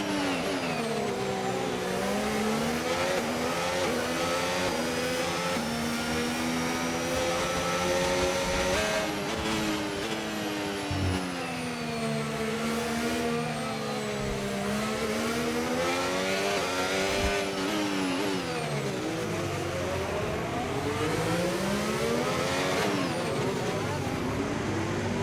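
A Formula 1 car's engine in the F1 25 racing game howls continuously, its pitch climbing and falling through gear changes as it accelerates around the Monaco circuit. A voice talks over it at times.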